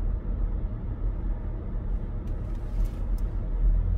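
Cars passing on a road in Palm Beach, a steady close rumble of engines and tires with no talk.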